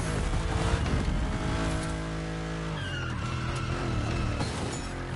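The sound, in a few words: Mercedes car drifting in The Crew Motorfest video game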